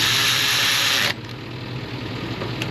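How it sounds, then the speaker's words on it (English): A power tool tightens the alternator mounting bolts on a John Deere 6120M tractor: one loud, close, steady whirring burst of about a second, which cuts off and leaves a low background hum. "Go ahead and tighten up both the mounting bolts."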